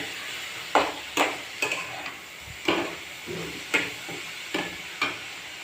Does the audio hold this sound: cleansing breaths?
no